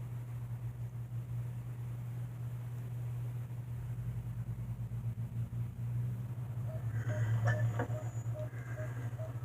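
Outside, a loud passing car gives a low, continuous rumble that builds toward the end, joined by faint higher tones, with no voices.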